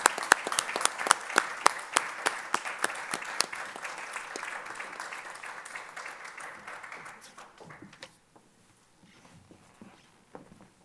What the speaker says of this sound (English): Please give Miss Countryman a round of applause.